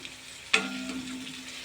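A quiet, steady sizzle of onions frying in oil, broken once by a brief clink partway through.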